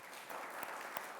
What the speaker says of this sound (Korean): 이번에 오병이어는 박원노 최현숙 집사님 해서 박수 보내겠습니다